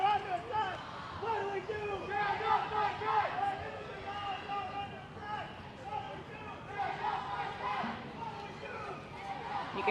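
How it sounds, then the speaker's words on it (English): A crowd chants at an abortion rights rally that turns into a march in Birmingham, rhythmic massed voices repeating phrases at a moderate distance amid street bustle. "Lots of chanting happening here."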